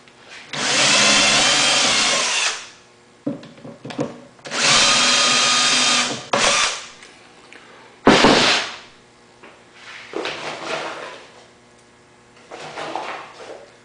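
A power drill fitted with a Vix self-centering bit bores pilot holes for drawer slides, running in two long, loud bursts of steady whine followed by shorter stop-start pulses and brief spurts, with no talking.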